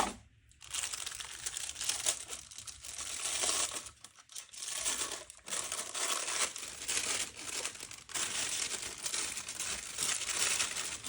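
A plastic piping bag filled with resin crinkles and rustles continuously as it is shaken down and twisted closed, close up with a brief pause partway through.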